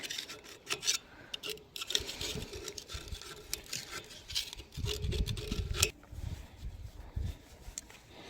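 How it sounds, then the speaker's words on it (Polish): Metal parts on a C360 are scraped and wiped clean by hand, giving close, quiet, irregular rasping strokes and rubbing with small knocks, starting and stopping throughout. "Czyścić. Skrobać po prostu wszystko ładnie powycierać."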